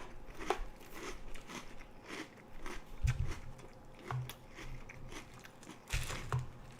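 Crunchy Lucky Charms cereal with honey is chewed close up, producing irregular crisp crunches and bites, quiet and intimate, with no speech.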